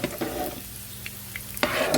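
Garlic frying in a pan on the stovetop, a continuous close sizzle with a few light scrapes and clinks of a utensil at the start and end, no voices.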